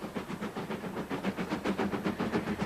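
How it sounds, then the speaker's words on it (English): A steam train of the Somerset & Dorset Railway running on the line to Burnham, with a steady rhythmic chuffing and hiss repeating evenly throughout at moderate distance. "that noise that the steam train makes"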